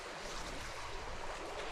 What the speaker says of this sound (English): A big flow of rapids right into a deep pool here